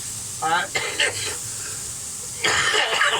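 A man coughs repeatedly from kitchen smoke while something sizzles in a frying pan, the coughs coming in short harsh bursts over a steady hiss of frying during home cooking of an Aldi madras curry.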